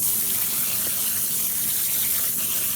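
Salted kimchi cabbage being rinsed under running water, a steady close gush of tap water filling the whole stretch with no talk.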